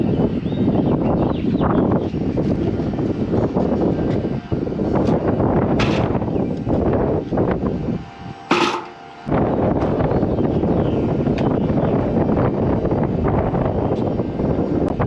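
Strong gusting wind buffets the microphone almost continuously, a loud roaring rumble that briefly drops away before returning.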